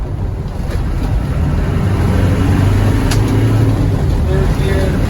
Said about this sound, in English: Third gear, we're going uphill, no problem at all. Downshifting into second gear.